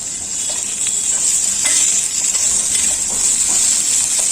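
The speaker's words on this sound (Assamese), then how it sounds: "অকণমান জাষ্ট ভাজি দিছোঁ" Already-boiled potatoes frying in a pan give a steady, close sizzling hiss that runs the whole time, with small scattered ticks and stirring scrapes and no talking.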